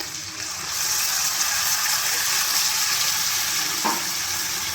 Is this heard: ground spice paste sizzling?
yes